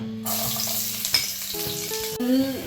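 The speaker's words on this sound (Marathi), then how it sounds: "मी तेल घेतले आहे, त्याच्यात हाफ वाटी बघ लसूण घालते।" Garlic, about half a small bowl, sizzles as it hits hot oil in a pan while chicken crispy is cooked, a steady close frying hiss with a few stirring clinks and background music, no talking.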